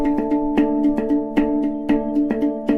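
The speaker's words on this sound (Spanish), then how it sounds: "pero interpretada con un steel drums que suena así" A rock song played on steel drums, with bright ringing metallic notes struck in a quick, steady rhythm, each hit leaving a sustained harmonic tone; clear and close with no talking.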